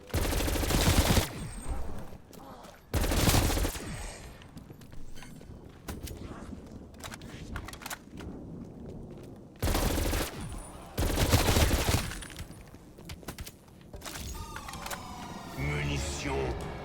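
Gunfire in the Call of Duty Cold War video game, a few loud bursts of automatic fire separated by quieter stretches of game sound, with someone talking in between.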